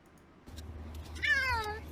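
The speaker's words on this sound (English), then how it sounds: "Is that a big kitty?" A cat gives a single short, wavering meow near the end, fairly close but not loud, after a quiet stretch with a soft low background hum.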